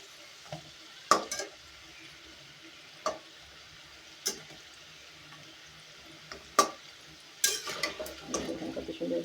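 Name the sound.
pitha cakes deep-frying slowly in oil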